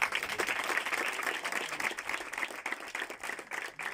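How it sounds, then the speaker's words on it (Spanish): A church congregation applauds in a quiet, distant burst of clapping that rises and falls slightly over a few seconds. "Otro fuerte aplauso"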